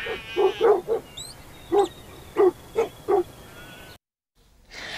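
A dog barks in a steady series of about eight short, punchy barks at moderate distance with a whine mixed in, then a moment of dead silence before a soft noise starts again; no talking.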